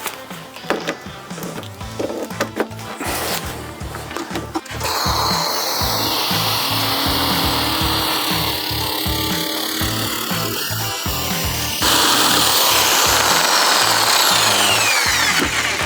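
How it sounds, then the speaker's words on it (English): A jigsaw fitted with a bimetal 20-tooth blade cuts plexiglass, starting with choppy rapid rasping strokes and then settling into a loud, continuous harsh buzzing saw noise close by. "Jigsaw with a bimetal 20-tooth blade."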